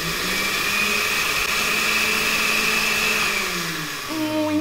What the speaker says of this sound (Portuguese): é só você encaixar no liquidificador